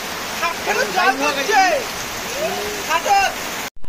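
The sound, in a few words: heavy rain falling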